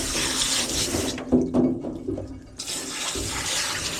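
Running water rinses shampoo from a golden retriever during grooming, a steady close hiss of spray that cuts out briefly for about a second and a half, leaving soft splashes and drips, then resumes at full strength.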